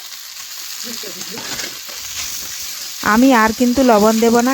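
Homemade snacks fry with onions in a pan, giving a soft, low sizzle for a few seconds before a voice starts talking over it.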